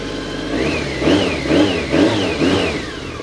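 BMW K1 motorcycle engine running close up after a fuel system refresh, idling steadily with four quick regular revs that rise and fall in pitch, loud and alone without talk.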